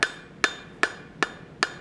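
Five evenly spaced, sharp metallic hammer blows on hot steel, about 0.4 seconds apart, ring out clearly with bright overtones during a light cleanup heat while forging a hammer head.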